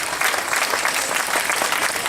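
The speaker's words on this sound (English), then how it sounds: "we can have one more big round of applause for them" An audience applauds after an Indian classical dance performance at a youth fest in Santa Clara, a dense, even burst of clapping heard alone and fairly loud.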